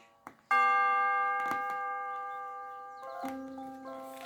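Ringing church bell tones with sustained, layered harmonics, struck a few times and left to decay, fairly close and clear.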